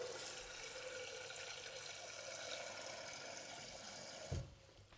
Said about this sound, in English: So you want to pop in some warm water, or actually any water, doesn't matter if it's warm or not.